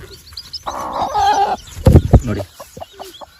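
A hen and her chicks cluck and chatter nearby, a run of short calls followed by a few sharper squawks, with faint rustling in the background and no talking.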